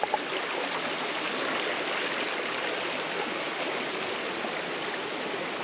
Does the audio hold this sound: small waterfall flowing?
yes